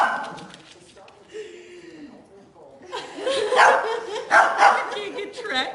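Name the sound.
puppy and big dog playing, barking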